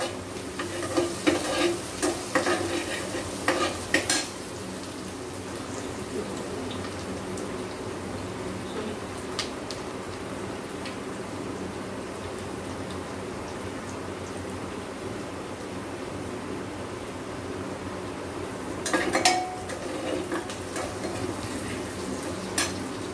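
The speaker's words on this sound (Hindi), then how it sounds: "तब तक, जब तक कि हल्का रेडिश नहीं हो जाता है, तब तक इसको भूनना है।" An ingredient frying in a pan until lightly reddish for a diabetes-friendly lunch box, a steady soft sizzle throughout with occasional clinks and scrapes of stirring near the start and again near the end.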